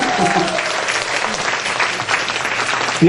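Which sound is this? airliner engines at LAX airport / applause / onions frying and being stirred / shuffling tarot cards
applause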